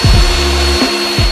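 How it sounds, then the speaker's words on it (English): A miter saw cuts through wood, a loud close whining motor drone with a short dip and spin-down near the end. "marking where I need to cut and cutting it out on my miter saw"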